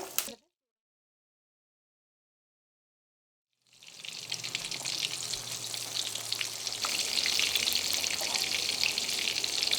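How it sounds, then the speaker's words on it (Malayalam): Breaded chicken kabab deep frying in oil over a medium flame: after a brief knock and a few seconds of silence, a dense, close sizzle and crackle rises and holds steady, growing slightly louder toward the end. "ഇതൊരു മീഡിയം ഫ്ലെയിമിലിട്ടിട്ട് വേണം വറുത്തെടുക്കാൻ വേണ്ടിയിട്ട്."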